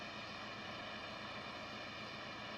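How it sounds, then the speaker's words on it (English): A steady, even engine drone from an aircraft taxiing in Flight Simulator X, a constant airplane hum with no voices over it. "We're actually taxiing now."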